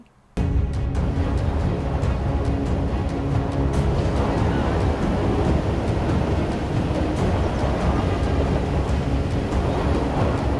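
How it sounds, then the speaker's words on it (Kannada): Floodwater from the overflowing rivers of North Karnataka, swollen by heavy monsoon rain, roars steadily in a loud, continuous wash of rushing water that starts abruptly and holds without pause, with no voices. "ನದಿಗಳೀಗ ಒಂದಕ್ಕಿಂತ ಒಂದು ಭೋರ್ ಗರಿತಾ ಇವೆ ಹಾಲ್ನೊರೆಯಂತೆ ಧುಮ್ಮುಕ್ಕುತ್ತಿವೆ"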